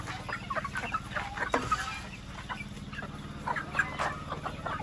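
Chickens cluck over a steady low hum of a farmyard, with overlapping short calls repeating at close range and a busy, continuous flock texture.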